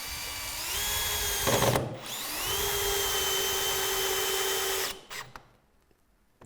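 A power drill drives screws into the collar of a Velux top-hung roof window, giving a steady whirring run with a brief dip and a spin-up in the middle, then a short burst and stop, loud and close with no talking.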